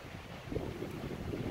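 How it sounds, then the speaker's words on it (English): Steady wind roars and buffets across the microphone, a constant low blustery rush with no voices. "it's awfully windy out here"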